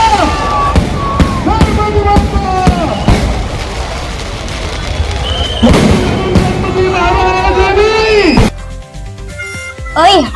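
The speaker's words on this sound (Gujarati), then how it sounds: "ગણપતિ બાપા આવી ગયા છે, તને ફટાકડાનો અવાજ નથી આવતો?" Firecrackers burst in a dense, continuous crackle for a Ganesh idol's arrival, with sharp pops and booms throughout and voices and music-like tones mixed in.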